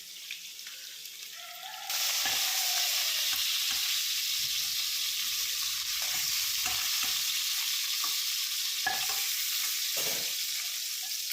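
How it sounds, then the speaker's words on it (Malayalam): Chicken pieces fry in hot oil in a pan, starting quieter and then bursting into a loud, dense, steady sizzle with occasional spatters and clinks. The sound is close and runs without any voices. "അപ്പോൾ അതേ എണ്ണയിലേക്ക് ചിക്കനെല്ലാം ഫ്രൈ ചെയ്ത് കഴിഞ്ഞു"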